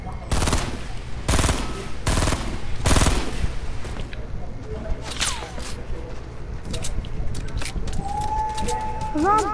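Gunfire from the Fortnite video game, including a double-barrel shotgun: four heavy, evenly spaced blasts open the clip, followed by scattered softer shots and game effects under excited voices.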